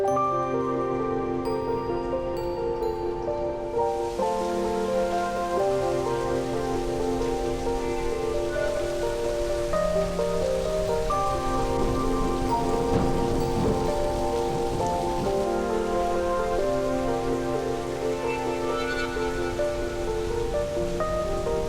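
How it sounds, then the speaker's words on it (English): Steady heavy rain falls outside at a luxury eco-resort spa in Coorg, India, a constant wash of drops under layered tonal music that runs the whole time. "As the rain started to fall heavily outside"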